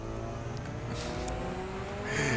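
A Mazda RX-7 with a turbocharged rotary engine drives hard on a mountain course, its engine droning steadily with rising revs toward the end, close and continuous.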